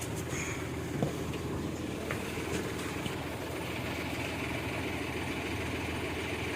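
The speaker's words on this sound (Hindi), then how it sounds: "केवल इंजन की आवाज़ आ रही है" A 2018 Hyundai Xcent diesel engine idling while parked, a steady low rumble with an even mechanical hum throughout, close and moderately quiet, with no talk.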